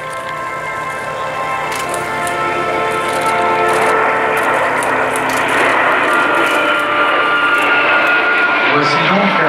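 A jet aircraft flies past at the Paris Air Legend 2019 air show, a loud sustained roar with a rising whine that swells gradually across the clip, with a voice talking over it.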